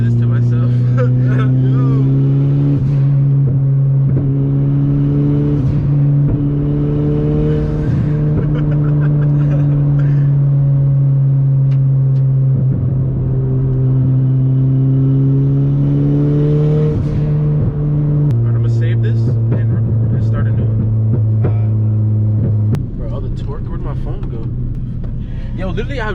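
A big-turbo Honda Civic's engine drones loud and close as it pulls hard through the gears with little traction, with a clear gear change partway through and people talking over it.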